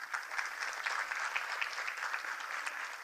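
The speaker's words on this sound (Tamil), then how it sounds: "அவங்களுக்கு பெரிய கைத்தட்டை கொடுங்க." Audience applause at a Bharatanatyam dance school event, a steady patter of many hands clapping at moderate distance, continuing evenly for a few seconds with no talk.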